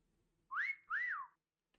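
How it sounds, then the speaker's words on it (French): Two rising-and-falling whistled notes in quick succession, clear and tonal against near silence, like a signal call, from the video game Meccha Cameleon. "Ok, sifflement de 5 secondes."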